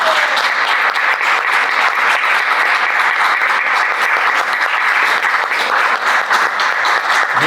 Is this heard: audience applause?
yes